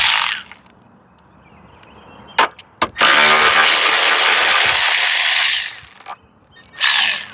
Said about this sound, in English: the first thing you're gonna do is remove the 12mm bolt or screw